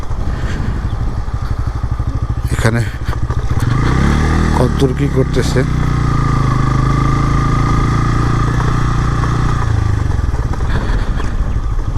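A motorcycle idles nearby with a steady low engine rumble that swells into a revving surge in the middle before settling back, while people talk over it.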